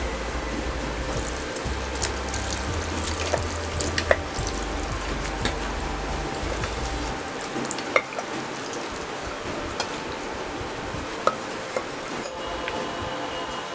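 Chicken sautés in Malvani masala in a pan, giving a steady, close sizzle with occasional sharp stirring clicks; a low rumble sits under the first half, then drops away.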